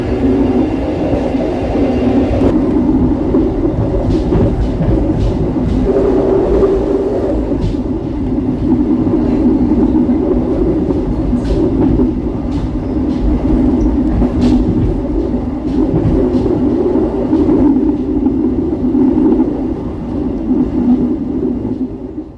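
Pasundan economy-class train on the Bandung-Jogja route, a steady loud rumble and clatter of the running carriages heard from inside, continuous throughout with faint rhythmic clicks of wheels on track.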